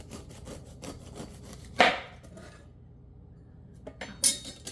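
A pineapple knife saws and scrapes down through a whole pineapple's tough skin and flesh, with a series of rough rubbing strokes, a sharper crunch partway through, then a quiet pause and a few more scrapes.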